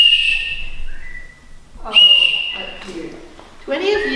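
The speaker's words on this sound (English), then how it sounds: "It's a whistle." A toy whistle is blown in a few shrill, high blasts, the first long and steady and the later ones shorter and warbling, close by with some voice sound mixed in.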